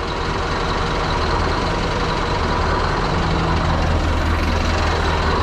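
A Scania V8 truck engine idles loud and close, a steady deep rumble with a broad, even roar that holds unchanged throughout and has no talking over it.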